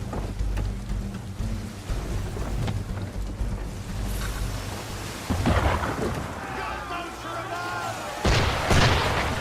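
Cannon fire from an enemy ship booms across open water in Assassin's Creed III, deep rumbling blasts with a roar near the middle and a louder one toward the end, over a steady low wash.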